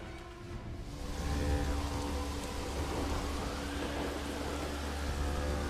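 Steady heavy rain falls during a flood in Germany, a dense continuous hiss with a low rumbling undertone, even and unbroken throughout.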